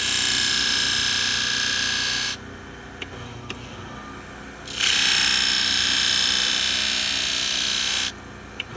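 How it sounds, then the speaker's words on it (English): A knife blade is sharpened on a powered Hira-To flat hone at 1800 grit, giving two long, steady, loud grinding hisses with a quieter gap between them and no talk. "that's how quick it is to sharpen knives on your flat hone"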